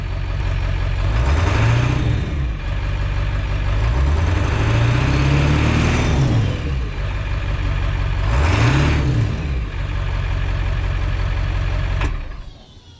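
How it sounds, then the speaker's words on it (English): A 7.3 Powerstroke turbo diesel engine on a 4-inch exhaust revs up three times in strong, rising-and-falling swells, with a deep rumble and turbo whine between the pulls, then cuts off sharply near the end. "let me rev it a few times so you get an idea of how it sounds"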